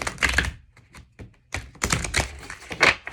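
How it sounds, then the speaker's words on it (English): Large tarot cards being shuffled, an uneven series of close riffling snaps and taps in bursts with short pauses between. "These big cards are always hard to shuffle"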